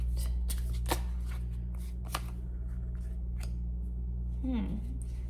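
Tarot cards are shuffled in several quick riffling bursts, crisp and close, over a low steady hum, with a short soft vocal sound near the end.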